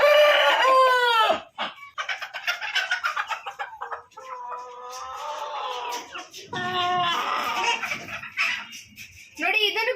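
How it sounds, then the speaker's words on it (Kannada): Pandit breed chickens on a farm cluck and crow close by, a rooster's long crowing calls mixed with hens' squawks and clucks and brief pauses, loud and busy throughout. "ನೋಡಿ, ಇದನ್ನು ಪಂದಿತ್ ಜಾತಿ ಕೋಳಿನೇ"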